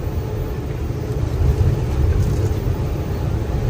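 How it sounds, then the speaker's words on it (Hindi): Steady broadband road roar from the tyres of a moving loaded vegetable truck on a highway, a continuous rumbling hiss with slight swells, heard from inside the vehicle with no talking. "गाड़ी के टायरों में से आवाज आती है"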